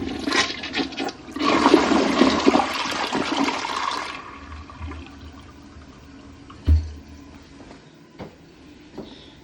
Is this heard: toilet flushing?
yes